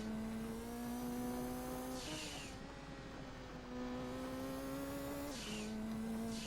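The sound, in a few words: Pikes Peak race car engine driving, Gran Turismo 2 video game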